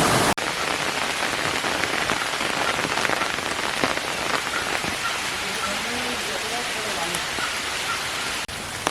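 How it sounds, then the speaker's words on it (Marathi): Rain pours steadily onto an open umbrella in the forest at Keri, South Goa: a dense, close, unbroken patter that stays loud and even throughout, with faint sounds of the woods beneath it. "छत्री उघडलेली, त्यामुळे पावसाचा आवाज येऊ शकतो."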